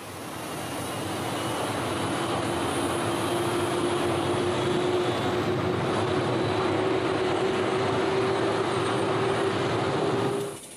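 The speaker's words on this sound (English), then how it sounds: "Starting up. Moments later, the new engine is put through its paces." An easyJet airliner's new jet engine starts and runs up on test, a loud, steady roar with a sustained whine that holds throughout before cutting off at the end.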